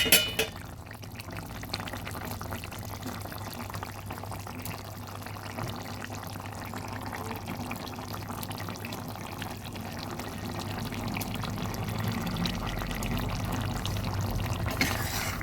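Fish pieces going into a pot of simmering winter vegetable curry with nearly cooked potatoes, giving a steady close bubbling, sizzling wash that builds slightly toward the end, with no talking.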